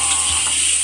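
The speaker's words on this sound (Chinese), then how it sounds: "把那个蒜头、姜煸好，姜煎" Garlic and ginger sizzle in hot oil in a big wok, a short burst of dense, close frying hiss with a faint stir partway through and no talking.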